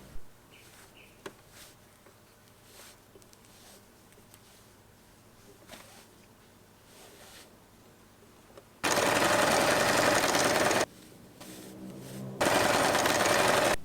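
A sewing machine stitches fabric for a rainbow scrunchie. It runs in two loud, steady bursts after a stretch of quiet fabric handling.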